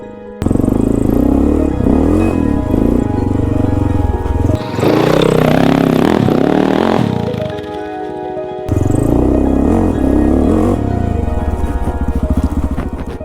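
A Honda XR650L dual sport motorcycle idling and puttering through slow figure eights, its single-cylinder engine thumping steadily up close, with a brief throttle rise midway and small shifts in pitch as it turns.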